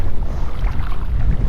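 Strong wind roars and buffets the microphone at low tide along a shallow shore, a loud, steady, rumbling rush with no pauses.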